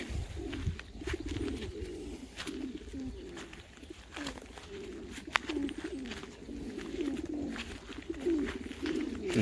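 Tumbler pigeons coo steadily at feeding time, with soft repeated low calls overlapping from several birds close by, along with light rustling and flutters and occasional sharp clicks.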